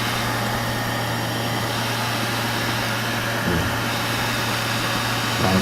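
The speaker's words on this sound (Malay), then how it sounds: "Bunyi dia hasilkan daripada motor bang." A small electric motor in a solar-powered vehicle cooling system runs with a steady, close hum and whir, holding a constant tone throughout with a slight shift near the end.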